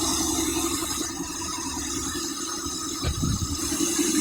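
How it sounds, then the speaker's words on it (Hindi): An engine idles with a steady low rumble and faint rattle, running evenly throughout with a small bump in the middle, no voices. "लगभग 20 से 25 मिनट आपको इस गाड़ी को चालू रहने देना है"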